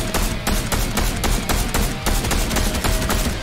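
Rapid, loud bursts of gunfire in Fortnite, evenly spaced sharp cracks repeating about every quarter second for the whole clip with no talk over them.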